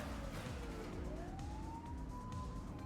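A wailing police car siren in the video game The Precinct, loud and steady, its pitch sweeping up and down over a dense rumble of game traffic and engine noise.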